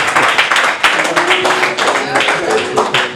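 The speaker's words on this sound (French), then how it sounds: "Applaudissez pour les docteurs en parole." A church or religious broadcast audience claps in applause, a dense run of hand claps at an even loudness under a loud voice that keeps speaking throughout.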